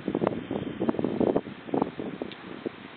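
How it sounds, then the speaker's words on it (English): Wind blows hard through a dust storm in Gilbert, Arizona, a steady rushing roar with gusty buffeting against the microphone that continues throughout without a break. "the wind is kicking up"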